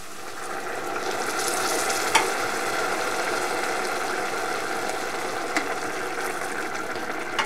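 Steady frying sizzle with a broad hiss of boiling water poured onto frying vegetables in a hot pan, continuous and close, with a couple of brief clinks.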